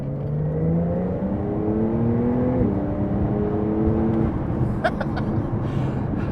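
A Porsche 911 GTS Cabriolet engine revs up while accelerating, its pitch climbing through the gears with a shift around the midpoint, loud and close, followed by brief clicks near the end.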